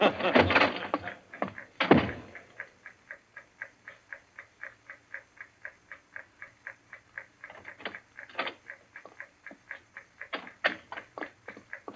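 A bomb's time fuse ticks steadily and evenly in a radio drama, close and clear, after a few heavy thumps at the start, the regular ticks carrying on alone to the end.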